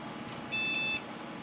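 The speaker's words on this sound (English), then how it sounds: "Love that beep." A Packard Bell Legend 818CDT computer gives a single short, clean electronic startup beep. It is a steady tone of about half a second against a quiet room hiss, with no talk.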